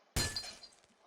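A frozen water orb shatters in a video game: one sharp, bright glassy break followed by a brief tinkling scatter of fragments that fades within a second.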